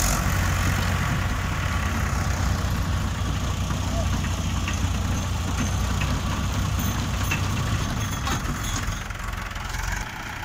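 A soil loader machine and a tractor engine run at idle, producing a loud, close, steady low diesel rumble with knocking texture that holds unbroken for the whole stretch.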